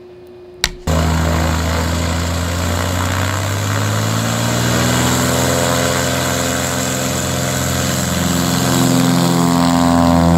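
Loud, steady drone of a propeller airplane engine inside the cabin before a skydiving jump, starting abruptly after a brief thump and holding a constant low, harmonic hum with no talk.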